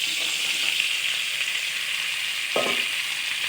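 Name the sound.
yam cake frying in a pan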